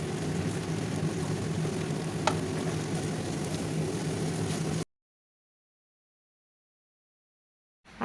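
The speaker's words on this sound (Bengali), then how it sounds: "এবার খুব ভালো করে ভেজে নিচ্ছি।" Chopped onions, four of them, sizzle steadily in oil in a pan, a continuous close hiss that runs for about five seconds before cutting to silence.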